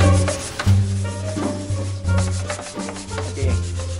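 Rubbing and scrubbing by hand, a continuous coarse friction sound in repeated back-and-forth strokes, close and fairly loud, with a low steady hum underneath.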